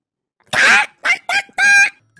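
Loud, rough fowl calls while chickens are driven along, four honking bursts in quick succession, the first long and harsh, the rest shorter and more tonal, with silence between.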